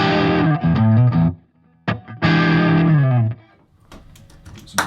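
Heavily distorted electric guitar, a Strat, playing chords in two loud bursts separated by a short pause, followed by a quieter ringing tail with faint noise.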